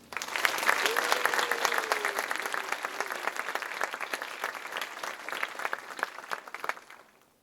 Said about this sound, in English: Please join me in a round of applause for Dr.